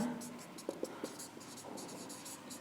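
A pen scratches across paper while the solution to a pair of linear equations is written out on a graph in a math lesson. The quick strokes are soft and faint over a low room hum.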